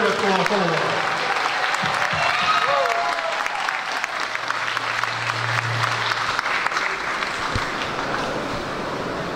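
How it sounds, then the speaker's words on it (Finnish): Sustained applause from an indoor audience greeting presidential candidate number 8, Alexander Stubb, at a campaign tour stop in Kouvola, Finland; loud, dense clapping fills the whole stretch with scattered voices underneath. "haluan pyytää suuret aplodit meidän presidenttiehdokas numero 8, Alexander Stubb."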